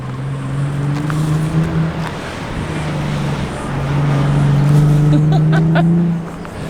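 A Nissan 370Z sports car engine with aftermarket intakes drones steadily, its pitch climbing slowly as it accelerates, heard from nearby with some wind noise and no talking.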